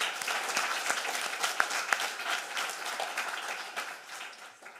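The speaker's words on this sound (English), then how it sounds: "I'd like to also give Salvi a round of applause." Children and staff at a school leavers' assembly applaud a pupil, a lively mix of many small hands clapping with a few crisp individual claps, gradually softening toward the end.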